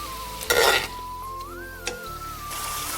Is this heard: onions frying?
yes